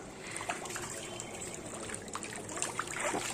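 Water sloshes and trickles steadily in a small home swimming pool as a child swims, with light splashes and dribbling close by and no talk.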